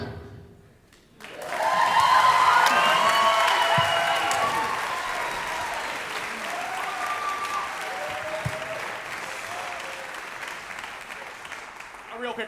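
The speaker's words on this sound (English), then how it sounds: "A real quick round of applause for our soloists in that" A school spring choral concert audience applauds the soloists after a performance, with a sustained, dense wash of clapping and some crowd noise that swells quickly, then slowly tapers over several seconds.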